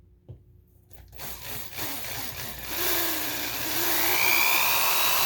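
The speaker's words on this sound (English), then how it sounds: "when the drill goes through, it doesn't damage your table." An electric drill whines, rising in pitch and loudness as it bores through a harmonica slider, running continuously after a brief start.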